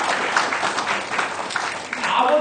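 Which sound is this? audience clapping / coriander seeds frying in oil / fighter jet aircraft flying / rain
audience clapping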